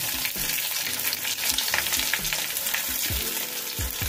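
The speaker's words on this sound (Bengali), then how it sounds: "এবার আমি এর মধ্যে কিছু কারি পাতা দেখো ধুয়ে রেখে দিয়েছি, সেটা দিয়ে দিলাম।" Curry leaves crackle and sizzle in hot oil in a pan while being stirred for vegetarian sabudana upma, a dense close frying hiss broken by spatula scrapes.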